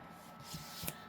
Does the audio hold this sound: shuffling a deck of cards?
yes